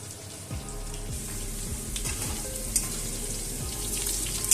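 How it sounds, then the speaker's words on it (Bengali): Prawns and chunks of suran (elephant foot yam) fry in hot oil in a pan over high flame, a steady close crackling sizzle with occasional scraping, no voices. "চিংড়ি মাছটা কিন্তু এইভাবেই ভাজা হবে"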